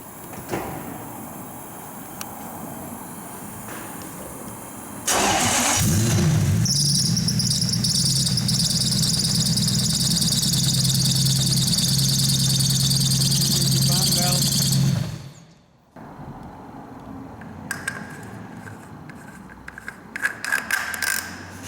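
A car engine with a badly loose fan belt starts up and runs loudly for about ten seconds, a steady roar with a high squealing whine above it, then cuts off abruptly; faint voices and small clatters come before and after.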